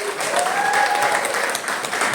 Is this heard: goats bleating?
no